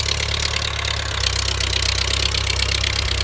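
A raised, high-clearance Ford 5000 tractor runs close by with a steady, rumbling diesel idle and a faint knocking pulse throughout.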